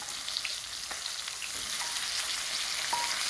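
Prawns sizzling and frying in a kadai with partly fried onion, green pepper and tomatoes, a steady bright crackle with occasional stirring scrapes, close and alone.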